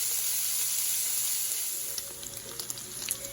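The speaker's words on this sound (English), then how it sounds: "It is hard to top the sound of bacon cooking in cast iron" Steady, crackling sizzle of spicy maple bacon frying in a cast iron pan, close and continuous, with a few sharper pops near the end.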